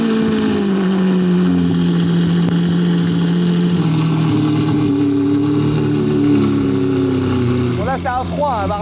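Sports car engine on a cold start, holding a loud, steady high idle with strong droning harmonics and slight rises in pitch, with a voice briefly audible near the end.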